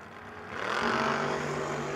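Drag race cars, including a 1972 Chevrolet Nova, launching at a no-box 660 shootout; a steady roar swells to a loud, sustained engine blast after a brief quieter start.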